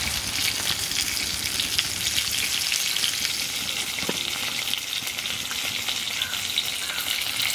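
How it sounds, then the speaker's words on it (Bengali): Roe-filled bhangan fish fry slowly in oil over low heat, giving an even, continuous crackling sizzle close to the microphone, with only a faint occasional tap and no speech. "ভাজা হোক আস্তে আস্তে অল্প জালে"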